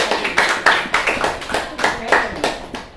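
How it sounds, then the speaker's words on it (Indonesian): Students clapping in a classroom, a series of brisk bursts of hand claps in an uneven rhythm, close and fairly loud. "kasih tepuk tangan buat kalian semuanya"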